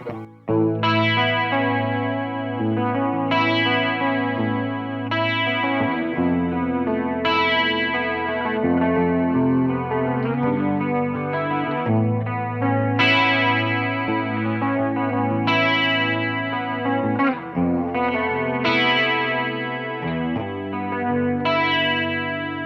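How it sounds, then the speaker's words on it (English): An electric guitar strums and picks chords through a chorus effect pedal, a shimmering chorus with the tone wavering and thick, loud and continuous with no voices. "Let me mess with them and see if I can get a sound that's a little bit more reminiscent of the CE-1."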